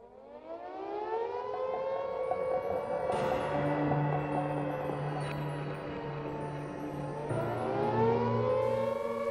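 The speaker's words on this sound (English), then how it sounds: "the siren sounded for the first time" A wartime air raid civil defense siren wails loudly and steadily, its long rising and falling tone sustained throughout, with no voices over it.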